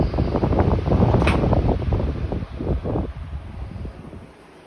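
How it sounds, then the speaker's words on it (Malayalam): An electric fan blows steadily indoors, a close broadband rushing hum that continues throughout and eases off at the end, with no talking. "പിന്നെ ഫാൻ ഉള്ളതുകൊണ്ട് ഇവിടെ നല്ല കാറ്റുണ്ട്"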